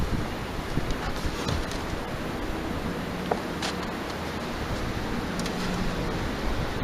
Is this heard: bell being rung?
no